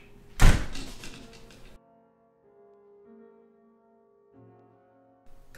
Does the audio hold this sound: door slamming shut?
yes